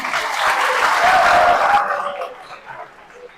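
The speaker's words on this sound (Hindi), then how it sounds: "एक बार जोरदार तालियां हो जाए भाई।" Audience applause at a debate event in an academy hall, a loud burst of dense clapping that swells then fades over a few seconds.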